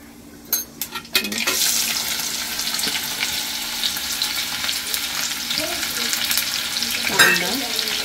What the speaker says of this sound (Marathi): त्याच्या अगोदर कांदा टोमॅटोची फोडणी देते